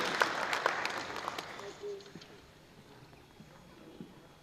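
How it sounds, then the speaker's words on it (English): Applause from the audience at a public sector audit awards ceremony starts out scattered and moderately loud, then tapers off quickly, leaving a quiet room with faint stray sounds. "A round of applause for the Joshua Mkomo Polytechnic."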